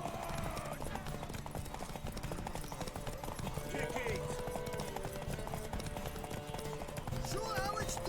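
Horse hooves clip-clop at a steady gallop in The Witcher 3, a rapid rhythmic patter under game music and spoken dialogue.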